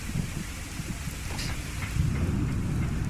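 Steady rain falls outdoors in Fallout 4, a constant hiss of droplets over a low rumbling undertone, with the rain swelling slightly louder toward the end.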